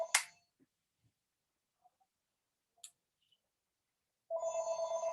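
A single electronic phone ring starts after a few seconds of near silence, following a brief click at the start.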